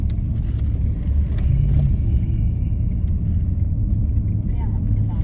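A car drives through the streets of the resort town of Belokurikha, heard from inside as a steady low engine and road rumble, while people talk quietly inside the cabin.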